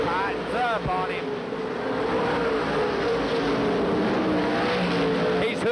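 Race cars roaring around the Eldora Speedway dirt track during the 1997 World 100, a continuous loud engine drone throughout, with a commentator talking over it.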